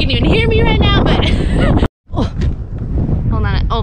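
Strong wind buffets the microphone at Hoover Dam in loud, rough gusts that nearly drown out a person talking, with a brief dropout partway through.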